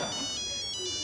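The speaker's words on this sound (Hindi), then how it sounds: "एक सेकंड रुको, इंद्रदेव का फोन आ रहा है।" A phone ringtone plays, a faint repeating electronic tone with steady high chimes, no talking over it.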